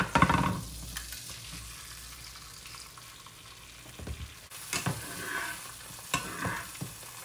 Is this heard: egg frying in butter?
yes